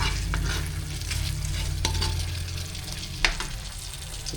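Food fries in its own rendered fat in a pan, giving a dense, steady crackling sizzle with a few sharp pops and scraping clicks.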